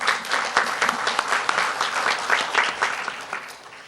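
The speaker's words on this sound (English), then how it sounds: "please join me in welcoming Ms. Welborn with a warm applause" Warm applause from a conference audience welcoming a speaker, dense steady clapping that holds throughout, fairly close and lively.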